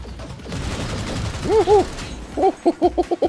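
Short bursts of gunfire in Cyberpunk 2077, a quick volley of rapid shots close by with a few tonal blips mixed in, over a low rumble.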